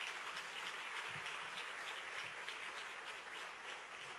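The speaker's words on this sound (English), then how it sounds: "Give them another round of applause" Soft, steady applause rises from an audience at a school district's State of the Schools address for student musicians, a faint, even wash of clapping with no break.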